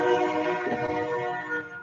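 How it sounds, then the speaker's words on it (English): A distant train horn blows a sustained, steady chord that holds throughout, with a low rumble of the passing train beneath it. "Oh, I hear the train."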